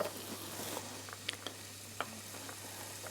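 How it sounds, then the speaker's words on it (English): Food sizzles in hot oil in a pan for a vegan coconut chickpea curry with vegetables, a faint steady crackle with a few soft pops and clinks, no voices. "You can hear it sizzling already because the oil is quite hot."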